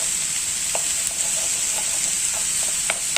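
Mixed vegetable thoran is being stirred in a pan, with faint scraping and occasional light taps over a constant bright sizzling hiss, close and fairly steady throughout.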